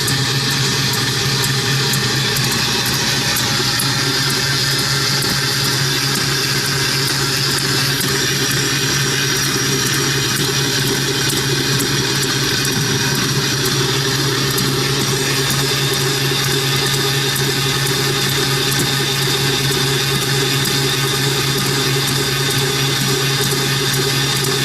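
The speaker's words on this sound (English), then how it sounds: "So now we will switch it to medium and mix it for 30 more" A kitchen mixer runs at medium speed, a loud and steady motor whine with a constant churning drone and no break for the whole stretch.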